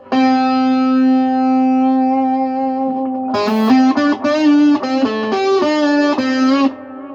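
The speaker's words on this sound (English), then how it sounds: "Let's bring in some echo." Electric guitar through a modified Marshall 12R amp with echo added: a long sustained chord ringing with distortion, then a quick run of picked notes trailing repeating echoes before cutting off.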